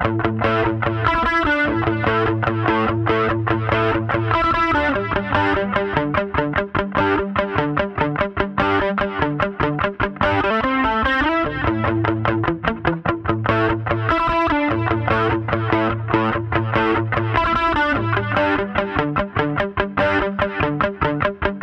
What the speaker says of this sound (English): this snapshot for the verses comes out sounding like this.